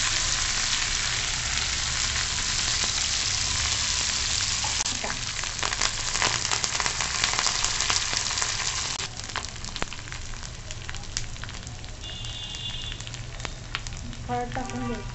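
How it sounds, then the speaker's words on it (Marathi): Crushed chili, curry leaves and ginger tempering in hot oil, a loud continuous crackling sizzle that settles slightly partway through, with a few stirring clinks near the end. "फोडणी छान अशी छान खमंग करून घ्यायची."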